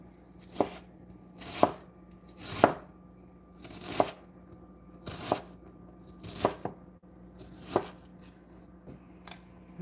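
Knife chopping onions on a cutting board for risotto with lentils and sausage, a steady series of sharp, close chops about once a second, with no talk.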